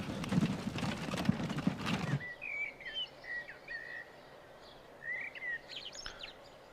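Hooves clip-clop steadily from a horse pulling a cart in the PC transport game Transport Fever 2, then stop abruptly, leaving quiet ambience with scattered chirping birds.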